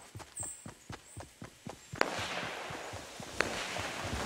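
Gunshots in the Fortnite battle royale game: a run of evenly spaced sharp cracks, then two louder close blasts over a dense rushing wash of game noise, with no talk.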